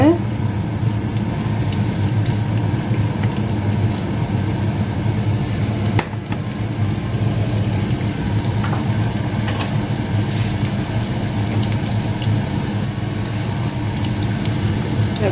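Onions and dried red chilies frying in hot oil with fennel seeds in a pan for a Jaffna-style cabbage and spring onion fry, giving a steady, loud, continuous sizzle throughout.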